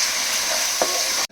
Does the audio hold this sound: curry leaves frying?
yes